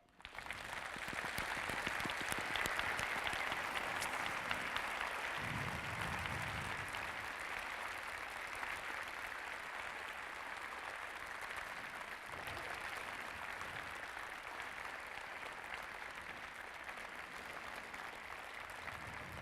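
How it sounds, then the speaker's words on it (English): Sustained audience applause at an event hall, a broad, even wash of many hands clapping that stays at a steady level for the whole stretch, heard at a moderate distance with no talk over it. "I let them applaud you,"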